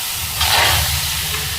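Raw prawns sizzle in a hot vessel with no added water as their own juices release, a loud, close, steady steamy hiss that surges briefly near the start.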